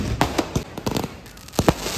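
Firecrackers burst in a rapid, irregular string of sharp, loud bangs, some close together, with no talking.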